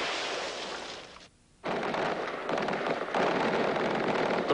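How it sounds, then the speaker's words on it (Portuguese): Gunfire in a battle in Baghdad during the Iraq War, sustained bursts of crackling shots from the distance, dense and loud, briefly cutting out before resuming with no voices over it. "Tropas americanas e forças da resistência também dispararam tiros de metralhadora na batalha de hoje em Bagdá."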